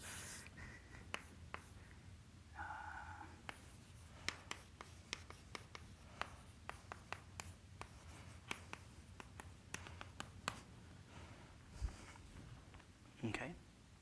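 Chalk or marker writing on a board during a mathematics seminar lecture, heard as a long run of quiet scratches and sharp taps in an irregular rhythm, with faint room noise and occasional breathing between strokes.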